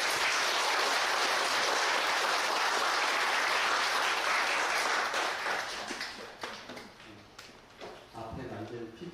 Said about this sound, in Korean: 오늘 발표를 해주신 5분의 강연자께 큰 박수로